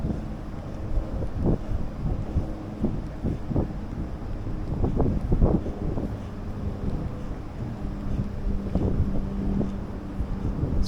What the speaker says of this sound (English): Pretty nasty wind right here.